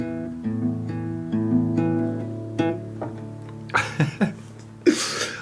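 Acoustic guitar playing the final chord of a song with a pinky hammer-on: sustained plucked notes ring over the first few seconds, with a couple of sharper attacks, before a voice speaks briefly.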